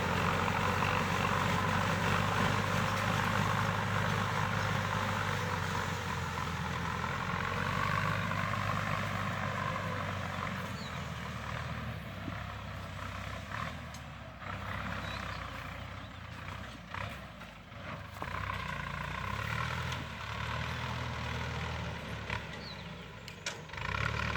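Continuous heavy engine drone of a Ford 6610 tractor ploughing a field, rumbling nearby, slowly shifting in pitch and loudness as it moves, with no voices.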